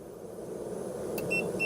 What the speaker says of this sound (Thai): โอเวอร์โหลดแจ้งเตือนแล้วก็ตัดฝั่ง AC ไปแล้วด้วยนะครับตรงนี้